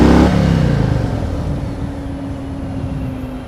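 A 2021 Harley Davidson Fatboy 114 cruiser accelerates hard, its loud engine roar falling away as the bike pulls off, leaving a fading drone.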